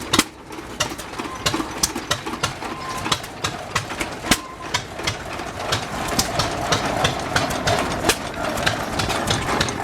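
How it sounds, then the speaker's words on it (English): A small antique engine runs at a steam historical society show in Arcadia, Maryland, its steady rapid ticks and chuffs close by over outdoor crowd noise. "I like these little engines."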